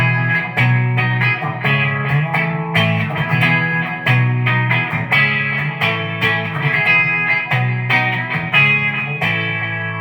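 Clean-toned electric guitar through a Peavey Vypyr X2 amp, steady strummed chords in an even rhythm with crisp attacks, loud and close throughout the passage.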